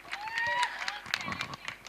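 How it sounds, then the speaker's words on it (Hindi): An audience claps and cheers for a skit team in a mixed, lively burst that is fairly close and moderately loud, with speech under the noise. "एक बार ज़ोरदार तालियां हो जाएं इस टीम के लिए"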